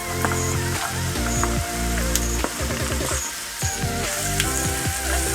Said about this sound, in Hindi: और इसमें हम डाल देते हैं भिंडी